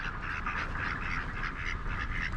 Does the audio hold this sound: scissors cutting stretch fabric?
no